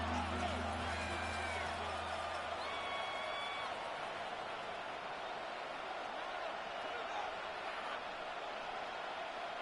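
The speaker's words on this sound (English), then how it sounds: "This crowd turning up the decibel level." Stadium crowd at an NFL game between the Lions and Vikings, a steady loud roar of cheering and noise filling the whole stretch, with faint whoops rising above it.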